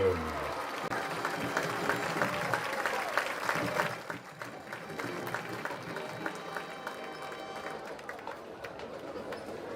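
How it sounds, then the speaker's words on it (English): Spectators at a high school football game between Piqua and Tipp City applaud from the stands, loud for a few seconds and then fading to a thinner patter with crowd chatter underneath. "Ladies and gentlemen, give a big round of applause to Joe Klein."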